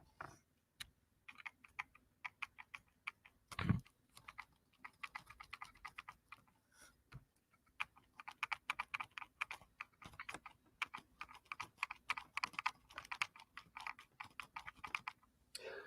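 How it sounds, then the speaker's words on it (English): Rapid, irregular clicking from a spinning hobby motor, held close to the microphone, with dense bursts of sharp ticks running through most of the stretch after a louder knock near the start. "That's the noise it has when I spin the motor."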